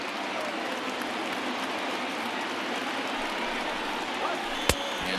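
Stadium crowd of over 39,000 roaring on their feet at a Chicago Cubs home opener against Pittsburgh in MLB The Show 20, a dense steady wash of cheering with one sharp crack near the end.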